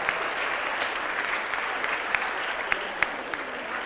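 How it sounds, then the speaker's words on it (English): An audience at a public speaking competition grand finale applauds, a fairly soft, continuous patter of many hands with a few sharper individual claps standing out near the end. "Ladies and gentlemen, let's give a round of applause to him."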